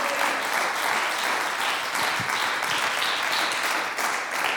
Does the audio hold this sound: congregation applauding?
yes